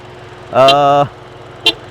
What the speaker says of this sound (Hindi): ये हॉर्न बजने बंद हो, bye God is very irritating.